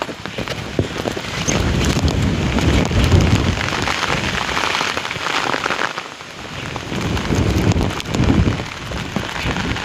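Strong gusts buffet an umbrella during heavy rain in a flooded castor field, a steady loud roar of wind and rain pounding close to the microphone with brief lulls and no talk.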